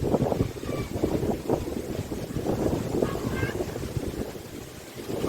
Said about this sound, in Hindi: हवा भी चल रही है तेज़